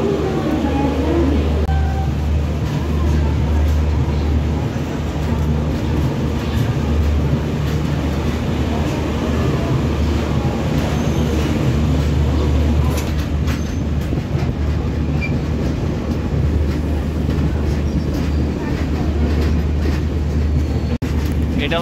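Kolkata-Guwahati Garib Rath Express rolling through a long curve, heard from on board as a steady loud rumble with rhythmic wheel clatter and faint squeal, unbroken throughout.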